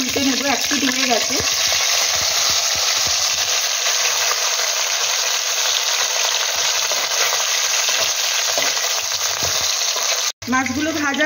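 Parshe fish sizzling in a pan of hot oil as the pieces are turned and finish cooking, a continuous close crackle and hiss, with a short break near the end and a faint voice at the edges.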